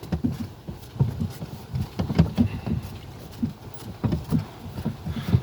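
Hooves of a tall draft mare clop at a steady walking rhythm, close by, with the rumble of a cart being pulled along underneath on a snowy rural road.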